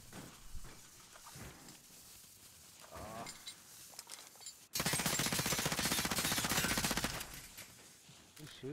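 Rapid sniper and automatic gunfire in a multiplayer shooter video game, a loud dense burst of shots lasting a couple of seconds after quieter game ambience with faint scattered sounds.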